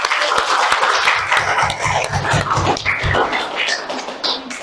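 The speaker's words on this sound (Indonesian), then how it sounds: "Tepuk tangan lagi." A vocational school class claps hands together in the classroom, a loud close run of fast rhythmic claps that settles into a busy patter with raised voices over it.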